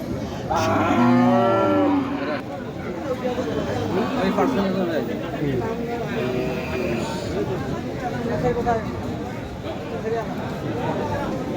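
Cattle at a rain-soaked Ramganj livestock market, with one loud, drawn-out moo near the start, then a dense babble of people talking and more distant animal calls filling the rest.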